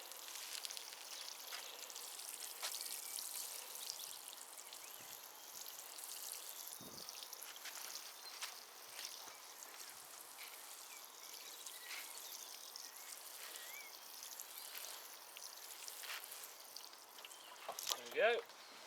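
Water from a can or hose falls onto freshly sown carrot seed boxes topped with compost, a soft, faint, continuous hiss and trickle outdoors, with occasional light taps and a bird call near the end.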